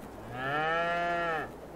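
A single long, loud cow moo from Farming Simulator 22 on the Calm Lands map swells in and holds steady for about a second before cutting off, close and alone.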